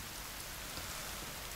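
Steady rain falling in the video game The Forest, a dense, even hiss of drops with no pauses, moderately quiet and alone without talk.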